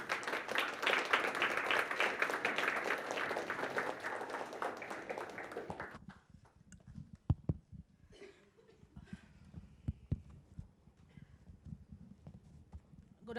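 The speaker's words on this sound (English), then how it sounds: "With a huge round of applause, let's welcome Sneha Mukherjee." Employee network panel audience welcoming a speaker with applause, a dense roomful of clapping for about six seconds that stops abruptly, leaving scattered sparse claps and footsteps in a quiet hall.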